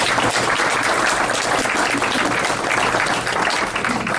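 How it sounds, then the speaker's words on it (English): Dense applause from a seated audience at a city council candidate forum in the Petroleum Club, Shreveport, as volunteer board members stand; loud, steady clapping throughout with a low hum underneath. "Let's give them a round of applause"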